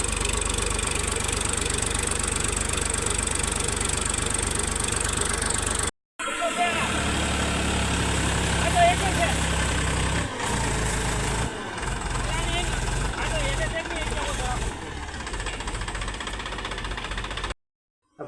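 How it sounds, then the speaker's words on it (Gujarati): A tractor engine runs steadily nearby while pits are dug at a desi field site, its continuous rumble and knocking broken by brief cuts, with a voice talking over it. "આ બાજુ ટ્રેક્ટર ચાલુ છે,"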